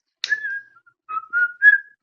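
A person whistling close by, a short falling note followed by a few wavering sliding tones after a brief pause, clear and alone without talk.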